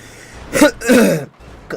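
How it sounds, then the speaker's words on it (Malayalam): A couple of rough, close coughs in quick succession, loud and harsh, followed by a short pause. "ഈ ചുമ ഒരു തരത്തിൽ പോണില്ല"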